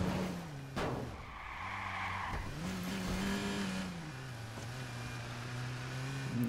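A car in the Watch Dogs video game drives with a steady engine drone that rises and falls in pitch, broken by squealing tire skids and sharp impacts, loud and close throughout.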